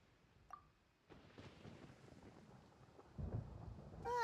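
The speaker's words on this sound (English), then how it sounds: "Paimon hears thunder!" Thunder rumbles through a stormy scene in Genshin Impact, a low rolling boom swelling near the end over a steady wash of rain, with a brief chime-like game tone early on.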